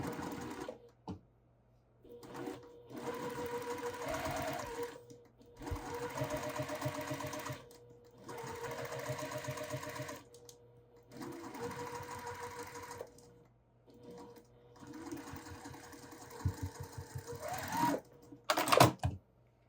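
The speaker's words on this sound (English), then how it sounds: "So I'm going to sew the rest of my curves here and then press" Home sewing machine stitching curved seams on a floral allium quilt block, running in five or six bursts of rapid mechanical whirring separated by short pauses, close and clear, with small handling clicks near the end.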